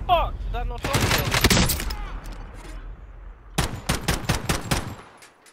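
Rapid automatic gunfire in Call of Duty Warzone during a laggy match, a loud dense burst early, then a second run of sharp shots after a short lull, with a voice talking over the shooting.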